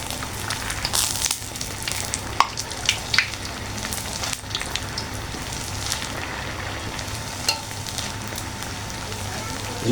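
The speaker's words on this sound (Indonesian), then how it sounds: "Ini siap kita angkat, siap kita goreng biar giliran ya." Oil sizzles and crackles steadily as rengginang rice crackers fry, with occasional sharp pops and clinks, close by and fairly loud throughout.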